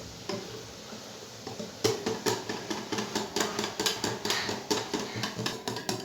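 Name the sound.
mixing cake batter with vinegar in a bowl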